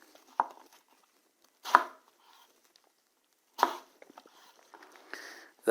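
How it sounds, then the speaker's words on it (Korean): A knife dices fruit into cubes on a cutting board for a fruit salad, giving a few separate sharp chopping knocks spaced out over several seconds in a quiet kitchen. "그 다음에 사각으로 깍둑 썰기도 또 한번 하고요."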